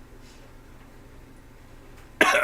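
One short, loud cough bursts out near the end after a quiet stretch of faint room noise.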